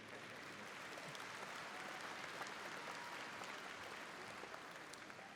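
A high school graduation audience applauds, an even, distant-sounding roll of many hands clapping that holds steady throughout at low volume.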